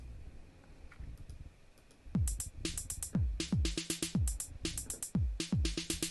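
A looped drum beat with punchy kick and snare, programmed in Audio Tool, plays alone with a steady, repeating rhythm and crisp hits, loud and close.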